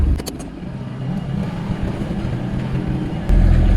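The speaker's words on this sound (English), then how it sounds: "Here comes the tractor with me gear on" A tractor engine drones steadily as it climbs a steep hill hauling scaffolding gear, a constant mid-distance rumble that swells louder at the end.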